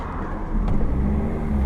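2001 Vauxhall Agila 1.2 16v petrol engine pulling as the car accelerates into fourth gear, a steady, close, low rumbling hum.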